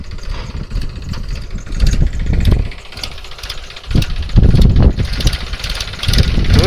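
A tractor drags a reversible plough through dusty field soil in first gear, the diesel engine loud and knocking, its labouring roar swelling and easing in waves as the load shifts.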